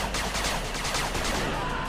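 Rapid continuous gunfire attacking a cannon turret in the video game 8-Bit Armies, a dense steady rattle of shots lasting the whole two seconds with no voices.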